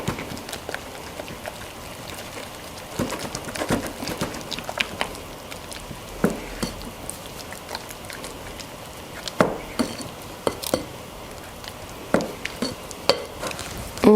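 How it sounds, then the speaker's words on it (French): Chocolate sablé cookie dough with egg white being stirred by hand in a bowl, giving soft irregular scraping and clicking strokes, fairly faint and close, with no talking. "Donc là, je mélange."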